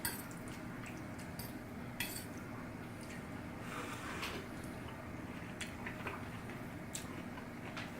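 A spoon stirs cheese and sour cream through a taco bowl of meat and sauce, quiet wet squishes and light clicks of utensil against the container at close range, faint and irregular.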